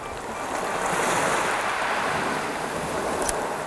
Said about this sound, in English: the waves are kind of calm. I need a good wave still.